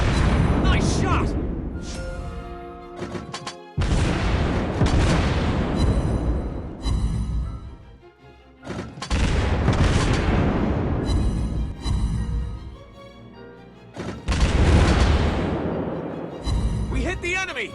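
Naval guns fire in World of Warships Blitz, from the Anshan Pan Asia tier 6 premium destroyer, as repeated loud heavy booms and blasts under game music and effects, with a voice talking over parts of it.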